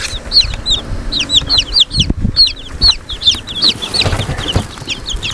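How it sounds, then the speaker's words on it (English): Week-old chicks peep in rapid, high, repeated chirps close by, a busy chorus with soft shuffling and a few low thumps underneath. "So these are the chicks. They're like a week old."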